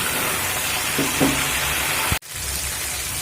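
A hot tempering sizzles loudly and steadily as spice paste goes in, with soft stirring scrapes. A sharp clunk is followed by a brief drop in the sizzle before it settles back at a slightly lower level.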